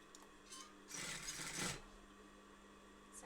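A sewing machine stitches along a jeans pocket seam in one short, quiet burst of rapid whirring lasting under a second, set against a faint background hum.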